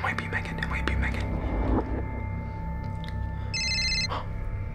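A telephone rings with a short electronic trill, set against a whispering, hushed voice and background noise before it.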